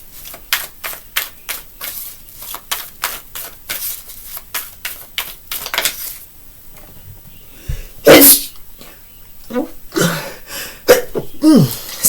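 A single loud, close sneeze follows a fast run of rhythmic clicking taps, and a few more throat sounds come after it.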